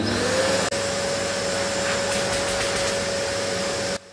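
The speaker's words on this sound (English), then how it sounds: "Now let's test on the blower." A Parkside PWD 30 B1 wet and dry vacuum cleaner running in blower mode through its spiral hose gives a loud, steady whooshing drone with a constant whine, cutting off abruptly near the end.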